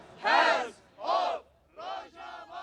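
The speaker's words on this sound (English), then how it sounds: "A crowd of about 60 gathered in front of the Christmas tree by Nashville's downtown courthouse." A crowd of about 60 at a rally in front of a downtown courthouse Christmas tree in Nashville chants in unison, with loud rhythmic shouted phrases in three to five bursts separated by short pauses.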